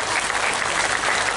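An audience at a religious haul gathering in Madiun applauds, a brief burst of loud, dense clapping that fills the whole moment without pause.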